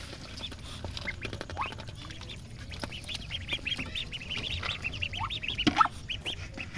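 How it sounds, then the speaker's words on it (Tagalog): Domestic ducks feed on finely chopped water spinach (kangkong) on a farm, giving busy overlapping quacks and soft pecking chatter throughout, with a few louder calls near the end. "sinubukan po nating pakainin ng ginayat-gayat na kangkong yung ating mga itik."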